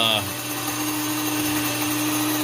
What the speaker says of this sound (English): milling the flour here. The Wonder Mill has been a wonder.